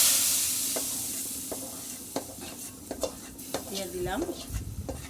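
Nigella seeds (kalo jeera) crackle and sizzle in hot oil for a vegetarian curry tempering, with a spoon scraping and stirring the pan in scattered strokes, loud and close. A voice speaks briefly at the end.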